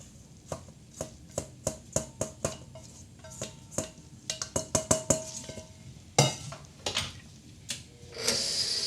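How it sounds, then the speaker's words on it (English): Gluten-free red velvet cookie batter being mixed as the dry mix goes in, heard as a run of sharp, rhythmic taps and scrapes of a utensil against a bowl, close and fairly quiet, with no voices. "we're going to mix this up"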